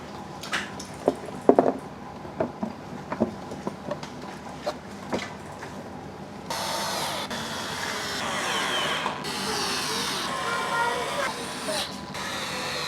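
A power screwdriver whirs steadily for several seconds while fastening the casing screws on a Modenas Elegan 250 motorcycle, following a stretch of clicks and handling noises, with talk heard earlier.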